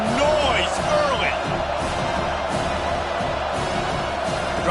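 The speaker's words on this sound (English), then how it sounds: "This crowd bringing the energy and noise early." A college football stadium crowd in EA Sports College Football 25, UCLA against Penn State, roars steadily throughout, with whistles and whoops rising above the dense, continuous wall of noise.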